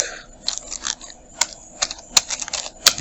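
Close computer keyboard typing: a quick, irregular run of light key clicks with a few sharper, louder strikes scattered through, with no talking.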